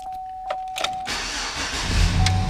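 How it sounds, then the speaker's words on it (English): A Chevrolet Silverado four-wheel-drive pickup truck starts up: a short whir of cranking and then a sudden, close engine catch that settles into a steady low idle rumble. "Truck fires right up"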